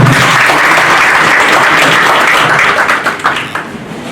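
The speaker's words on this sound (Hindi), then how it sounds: "सर की एक बार जोरदार ताली हो जाए" A crowd at a Rajasthan women's self-help group gathering in Banswara district breaks into vigorous, dense clapping that stays loud and steady before fading slightly in the last second.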